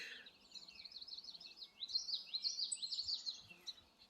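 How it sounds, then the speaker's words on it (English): Faint birds chirp and tweet in quick repeated high calls, sounding somewhat distant against a quiet outdoor background. "Here, lots of birds."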